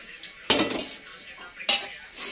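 A blackened metal wok being swapped out clanks twice against a stove, sharp close knocks about a second apart, with quiet kitchen noise between.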